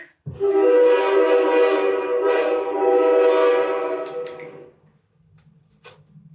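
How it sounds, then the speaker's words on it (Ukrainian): A loud, sustained train horn blares for several seconds, then fades, leaving quiet rumble and faint clicks. "Потяг."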